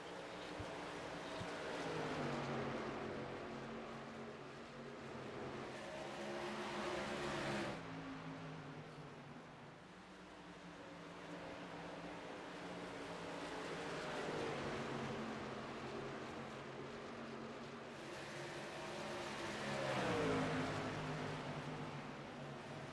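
Racing trucks battle for position on a track in a simulated throwback 150 race. Their engine drones swell and fade in long waves as the pack passes, with no talk heard.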